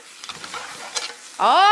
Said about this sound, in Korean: 야채 들어가요. 표고와 죽순. 자, 볶아줍니다.